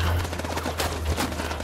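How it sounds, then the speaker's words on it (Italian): Gunfire in the video game House of Ashes: a rapid fusillade of shots crackles through the whole moment, with dense repeated bursts over a steady low rumble and no talk. "Devo sparare così a random."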